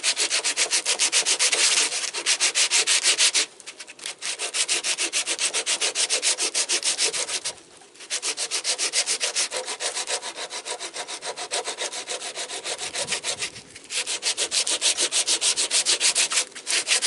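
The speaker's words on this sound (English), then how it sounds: "right now I'm starting with 80 grit sandpaper here" A knife blade is hand-sanded with 80 grit sandpaper at a workbench. The sandpaper rasps steadily and loudly in long back-and-forth strokes, broken by a few short pauses, with no talking.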